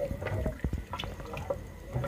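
Lentils and bottle gourd in a pot with two glasses of water being stirred, giving soft irregular sloshes, drips and spoon knocks at close range.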